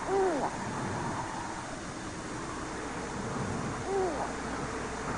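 Great grey owl hooting in a forest near Winnipeg, Canada: two short hoot calls, one at the start and another about four seconds later, moderately distant over a steady hiss of background noise.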